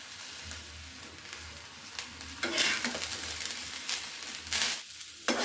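Fresh jowar hurda (sorghum grains) is roasted and stirred in a pan, making a soft continuous sizzle and crackle. Louder scraping bursts come from the stirring, with no talking.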